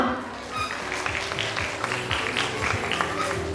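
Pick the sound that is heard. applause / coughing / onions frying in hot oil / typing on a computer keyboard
applause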